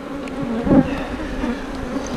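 Honeybees hum in a dense, steady drone as hive frames are handled and slid into place, with one brief louder buzz passing close.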